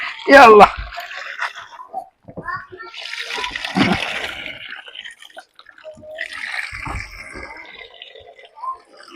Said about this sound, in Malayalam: ഇങ്ങനെ ചെരിച്ചിട്ട് വെള്ളം കളയുക